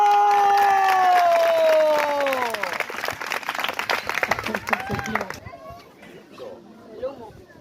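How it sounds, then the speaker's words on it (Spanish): An audience at an outdoor school sports event in Colombia applauds loudly and steadily for about five seconds, then fades into scattered claps and crowd chatter with voices nearby. "¡Un aplauso!"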